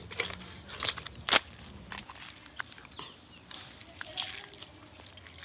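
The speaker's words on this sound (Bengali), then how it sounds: "আজকে আমি এই মাছটার পেটি বার করব।" A knife cuts belly pieces from a whole rohu fish in short crunching, crackling strokes, with sharp snaps and quieter scraping between them at close range.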